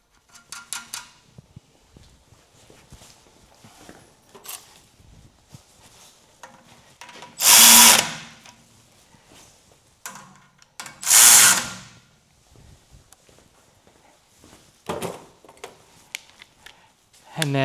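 Nut run onto a tie rod on an 80 Series Land Cruiser front end with a power tool, two loud separate bursts of about a second each amid quiet clinks and handling noise.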